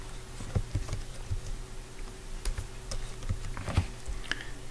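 Scattered keystrokes on a computer keyboard, irregular and moderately close, with short bursts of clicks and pauses between them.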